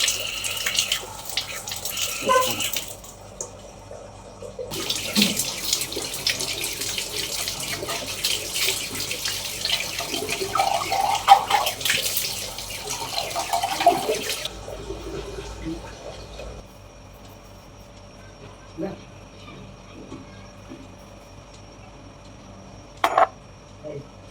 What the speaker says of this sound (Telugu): ఫస్ట్ అయితే ట్యాప్ వాటర్తో వేళ్ళు అవి మంచిగా నీట్గా పడుకోవాలి